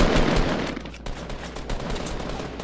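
Rapid automatic gunfire in Fortnite pours into a tree, loud and close, a continuous rattling stream with a brief gap midway.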